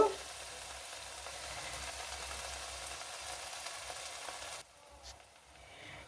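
Ground coriander and cumin being stirred into a frying pan, giving a steady close sizzle with light scraping that runs evenly, then drops sharply quieter near the end.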